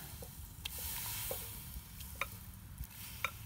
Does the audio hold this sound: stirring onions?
yes